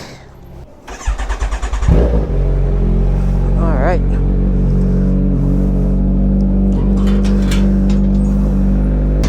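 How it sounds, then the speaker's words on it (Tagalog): A Honda Click scooter's engine cranks and catches after about two seconds, then settles into a loud, steady idle as it warms up, with a brief spoken word near the start. "At start muna natin yung bike."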